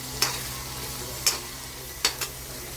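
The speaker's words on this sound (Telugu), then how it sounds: "కొంచెం ఫ్రై అయిపోయాయండి" Washed dry fish pieces fry in a pan at home, with a constant low sizzle broken by three or four sharp clinks and scrapes of a spoon against the pan.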